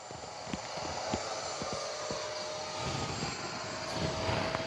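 An E-flite F-16 Thunderbirds 80mm electric ducted-fan RC jet flies past, giving a steady, loud broadband whoosh that holds for the whole stretch, with a few faint ticks and knocks underneath and no talking.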